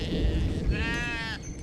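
A Vendéen sheep gives one clear, wavering bleat lasting about half a second, heard over steady low outdoor rumble on a farm.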